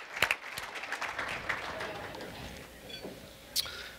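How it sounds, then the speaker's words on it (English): A lecture-hall audience gives its students a round of applause: scattered, fairly quiet clapping with a few sharper claps standing out, a voice murmuring faintly underneath. "a round of applause for our students that got up in the morning"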